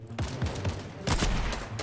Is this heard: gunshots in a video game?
yes